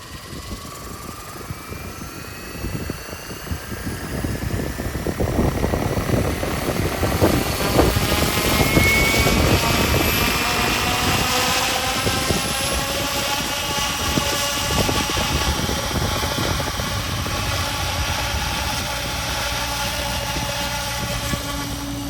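An XLPower Specter Ultimate RC helicopter on an upgraded test flight gives a loud, steady rotor whine and whir that shifts in pitch as it spools and maneuvers, with no talk over it.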